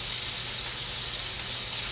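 Cross-rib steaks cooking in a pan give off a loud, steady sizzle, a dense continuous hiss close by with no break and no talking over it.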